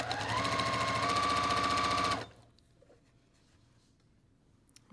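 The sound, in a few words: sewing machine stitching with 1/4 inch foot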